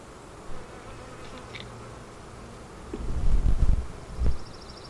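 Honeybees buzz around a hive outdoors, a soft droning hum over breezy background noise, with a brief closer buzz passing early and louder rustling and handling noises near the end.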